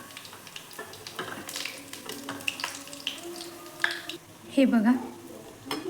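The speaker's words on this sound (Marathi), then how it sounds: "मी आता सर्व वड्या तळून घेते आणि ताटलीत काढून घेते" Methi vadi fry in a pan with a soft, uneven sizzle, broken by light clinks and scrapes of a utensil, while someone speaks briefly over it.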